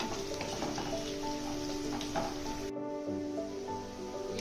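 Onions frying in oil in a pan until brown, giving a steady, close crackling sizzle throughout with a few faint stirring scrapes, the tone shifting slightly partway through; no voices.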